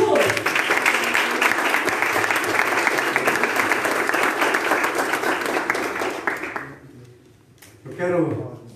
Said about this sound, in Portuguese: Vamos aplaudir a Jesus.